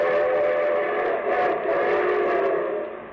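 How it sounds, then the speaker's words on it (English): A drawn-out train whistle sounds loud and close over the low rumble of a rolling train, blaring steadily and then easing off toward the end, a radio show's railroad sound effect. "And here comes the star-studded show train."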